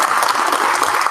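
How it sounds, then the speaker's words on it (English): Dense applause from an audience at a college address, a steady wash of clapping with no break through the short burst. "it was a well-deserving round of applause"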